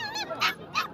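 A small teddy poodle at a dog market whimpers softly, then gives two short, sharp yips close by, with faint market chatter in the background.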